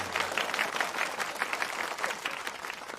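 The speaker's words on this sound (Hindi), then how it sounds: "तालियां।" A live audience bursts into applause after a comic line in a Hindi film scene, a dense, lively patter of many hands clapping that holds steady throughout with no clear break.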